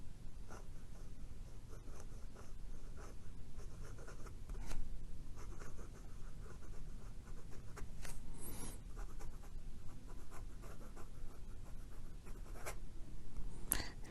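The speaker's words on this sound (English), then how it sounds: "Let's do some upside down writing." A Parker Jotter fountain pen nib scratches across paper held upside down, producing a close, faint, raspy rubbing with short strokes and brief pauses between words.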